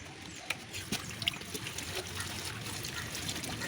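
Pieces of cut aloe vera are rinsed in water for homemade hair oil, giving light trickling and splashing with a few sharp clinks and drips, close by and fairly quiet.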